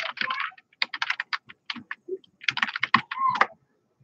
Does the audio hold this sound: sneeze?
no